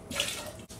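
Liquid pours briefly into a cocktail shaker: lemon juice, Buffalo Trace bourbon and Amaro Nonino for a drink also made with Aperol. One short, steady, close splashing stream, with no voices.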